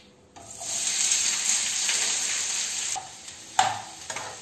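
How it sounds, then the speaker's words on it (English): Onions hitting hot oil in a pan and sizzling steadily while being stirred, a bright continuous fry hiss with a few stirring clinks and scrapes near the end, close and without talk. "Now I am adding the onions."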